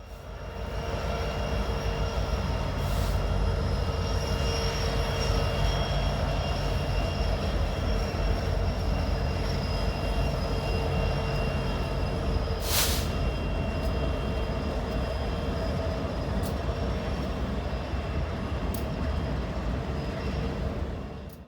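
Heavy SD70MAC diesel locomotive rumbling into a rail yard in Willmar, Minnesota at close range, a sustained deep engine drone with steady rolling noise and a few sharp metallic squeals.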